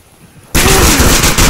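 Loud gunfire from the video game Onward VR bursts in after half a second of quiet and holds as a sustained, dense barrage through to the end.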